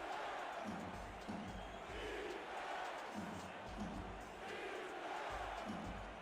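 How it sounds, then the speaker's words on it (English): A stadium crowd at the Hive roars steadily for a third down during an American football game, a dense, distant wash of cheering that swells slightly at intervals. "Crowd here at the Hive on their feet for this third down"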